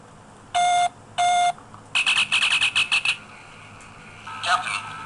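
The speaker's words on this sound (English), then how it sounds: "Wait for the beep." A Star Trek communicator replica gives two steady electronic beeps, followed by a rapid warbling chirp sequence and a softer trailing chirp, close and clear over faint background hiss.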